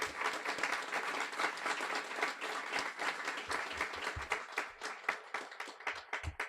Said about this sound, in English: a warm round of applause for them for putting these dogs into the ring